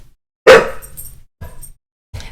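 A pet dog indoors barks at someone outside: one loud bark followed by a couple of softer, shorter barks or huffs spaced over about two seconds.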